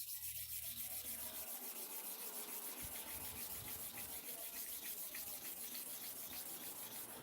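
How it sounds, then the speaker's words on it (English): A hair clipper blade is rubbed back and forth across a coarse sharpening stone, giving a steady, continuous gritty scraping with a faint rhythmic pulse, close but quiet, with no voices. "Let me hold it and sharpen the clipper blade."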